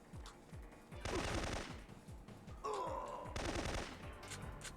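Automatic PK-102 gunfire in the stealth-action video game Syphon Filter: two sustained bursts of rapid shots sit among sparse single reports and game sound effects, loud and close, with no talk.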